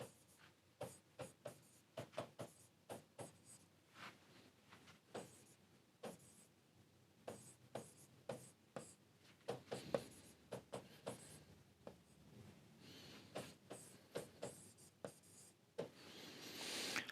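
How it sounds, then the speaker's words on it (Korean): An example sentence is written by hand, a steady run of quiet, close pen scratches and taps in short bursts, with small pauses between words. "제가 예문 하나 써보겠습니다"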